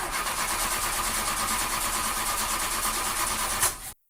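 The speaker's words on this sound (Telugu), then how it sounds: "ఇంతకీ కార్ స్టార్ట్ అవుతా లేదా?" A car engine cranks and turns over continuously for about four seconds in a steady mechanical churn, then cuts off sharply, with no voices heard.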